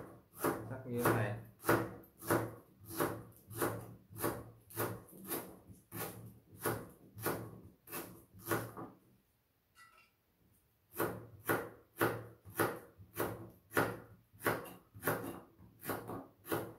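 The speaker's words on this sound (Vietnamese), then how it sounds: "Sả mình nhớ mình sắc to to như thế này" A knife slices lemongrass into thick pieces on a wooden board, a steady run of crisp knocks about two per second, pausing briefly midway before the rhythmic cutting resumes.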